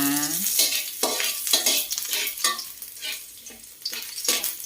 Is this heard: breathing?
no